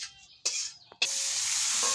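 Onions and chilies hit hot oil in a pan, giving a loud, steady sizzling hiss that starts in short bursts and then settles into a continuous crackle.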